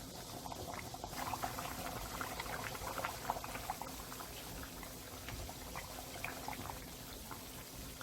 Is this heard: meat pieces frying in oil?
yes